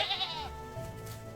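A single sheep in a field lets out a short wavering bleat, close and clear, ending quickly and leaving quiet background.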